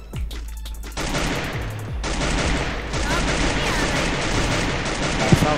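Automatic weapons fire in the Free Fire battle royale video game, with loud rapid bursts running almost nonstop as shots layer into a sustained rattling barrage.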